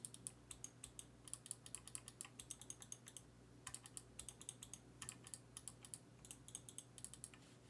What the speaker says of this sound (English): the sound of the keyboard